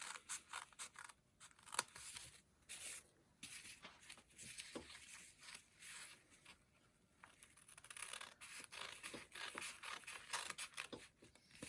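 Scissors cutting through a thick stack of folded paper doilies, with repeated close snipping and crisp paper rustle in uneven bursts, quiet overall.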